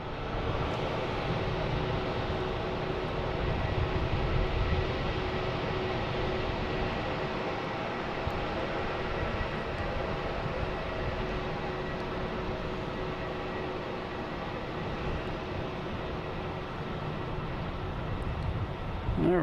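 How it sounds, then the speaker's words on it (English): A JetBlue Airbus A321 arriving at Boston Logan from San Diego gives off a faint, distant, even drone that holds steady throughout with no clear rise or fall. "JetBlue coming in from San Diego. An A321,"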